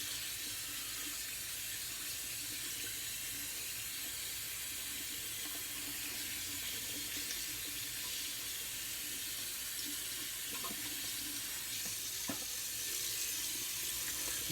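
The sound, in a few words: rinsing a shaving brush under running water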